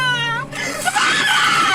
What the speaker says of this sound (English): Listen to this girl screaming.